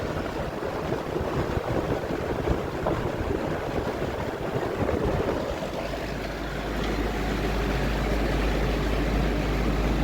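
A vintage Sears 20-inch whole house fan runs with a steady, broad whooshing roar of moving air and a low motor hum that deepens and firms up partway through, alone and without talk.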